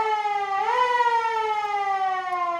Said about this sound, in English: it's actually got two horns on it, or I should say sirens